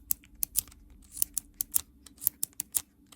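Buttons on a repaired Nintendo DS Lite click sharply and close up, a dozen or so crisp taps in an uneven rhythm over a few seconds.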